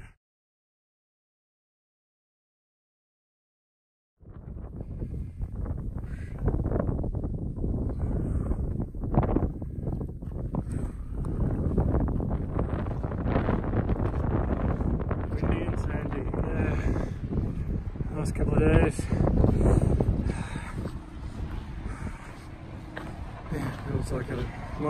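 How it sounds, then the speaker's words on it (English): Wind blows across a sandy desert stretch of the Pacific Crest Trail between Idyllwild and Big Bear. After a few seconds of silence, steady gusts buffet the microphone with a loud, rough rush that lasts to the end. "Miles of sand and wind in the face."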